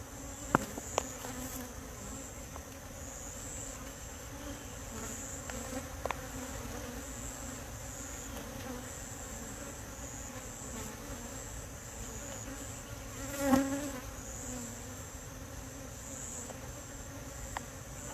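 Honey bees from an opened backyard hive with exposed brood frames hum in a steady, close swarm drone, with a few faint clicks of frames being handled and no talking.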